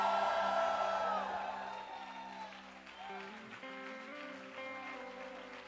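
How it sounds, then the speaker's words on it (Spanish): A church congregation shouts and cheers for joy at an evening service, a loud crowd roar that slowly fades into lingering voices and a sustained musical tone underneath. "¿Cuántos gritan por alegría esta noche?"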